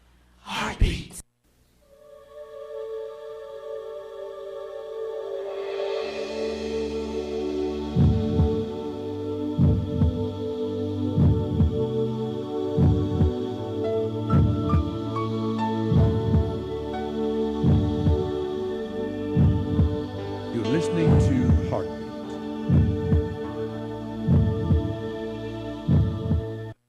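A deep, regular heartbeat thumps steadily for a long stretch under a sustained droning musical hum, loud and close, after a sharp opening hit.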